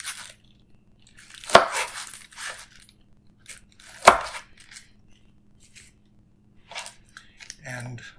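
A knife cutting the top off a pineapple at an angle, two sharp slicing crunches a few seconds apart, close and clear, followed by fainter scraping and handling sounds in a quiet room.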